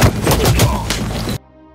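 Two villains open fire in a film scene, a rapid burst of several loud gunshots packed tightly together for over a second before cutting off abruptly into quiet.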